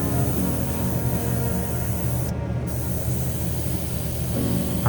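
Spray paint hisses steadily from an aerosol can onto a scale model Ford Mustang Hoonicorn body, a close, continuous burst with only brief shifts in intensity.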